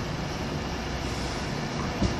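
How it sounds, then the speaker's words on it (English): A Virgin Trains Pendolino pulls into a station platform, a dense steady rumble of wheels and motors with a single sharp knock near the end. "And now arriving is the 1415 Virgin Trains Pendolino service to Birmingham New Street"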